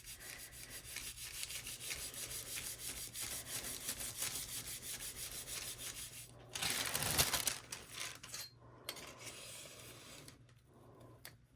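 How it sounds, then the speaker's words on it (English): Polymer clay earrings are burnished smooth by a close, soft, continuous rubbing with a faint rapid texture, swelling briefly louder midway before tapering off into short scrapes. "I want to burnish it a little bit, get everything nice and smooth."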